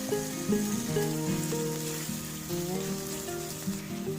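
Pounded garlic frying in hot oil for Thai chili-paste fried rice with minced pork, a dense, steady crackling sizzle heard up close and continuous throughout, with a faint tonal hum underneath.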